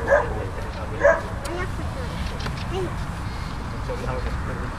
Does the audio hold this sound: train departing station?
no